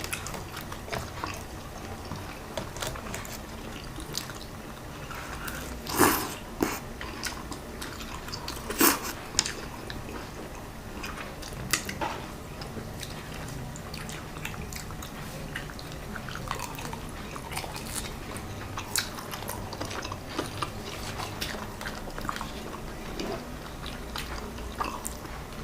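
Tofu (tokwa) street food being bitten and chewed, with wet, irregular chewing noises and a couple of sharper bites standing out, steady and close over low background.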